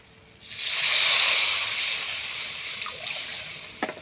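Water poured into a pan of hot rohu fish curry sets off a loud, sustained hissing sizzle that swells, then gradually fades, with a few faint clinks toward the end.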